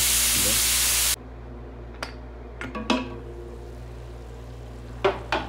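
Food being sautéed in a pan: a loud, steady sizzle for about a second, then quieter frying with scattered clinks and scrapes of stirring against the pan.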